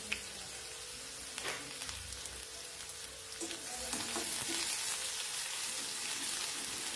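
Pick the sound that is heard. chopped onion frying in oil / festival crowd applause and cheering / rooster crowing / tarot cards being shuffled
chopped onion frying in oil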